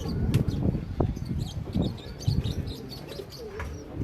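Fancy pigeons, Teddy and Rampuri breeds, cooing close by in a loft in Karachi, a series of soft low rolling coos with occasional chirps and brief wing flutters.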